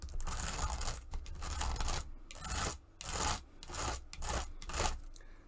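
Fine sandpaper rubs back and forth over an old metal miniature during paint stripping, making close, gritty rasping strokes in an even rhythm of about eight passes separated by short pauses, with no talking.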